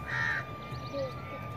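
Crows cawing near a bench in a Pakistani village, a couple of harsh calls close by, with faint background murmur.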